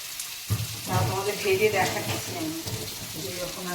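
Kabab shallow frying in a pan of oil, a steady close sizzle with soft stirring, while a person talks over it.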